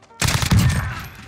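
Shotgun fire in a Call of Duty-style shooter: a sudden loud blast followed by a short burst of crackling shots and a fading tail.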